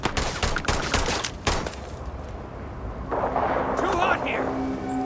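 Rapid gunfire in the Starfield video game, with bursts of loud, close shots in the first half, then rumbling combat noise as voices shout over it.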